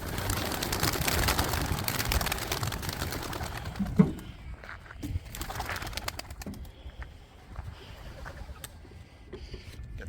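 Racing pigeons are released at a toss site beside a quarry and power lines, setting off a loud, dense clatter of wingbeats that fades after about four seconds into scattered flaps and faint outdoor sounds.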